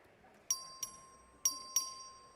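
In a legislative chamber in Austin, Texas, a bell signals a vote with four short bright rings in two pairs, each decaying quickly against a quiet room.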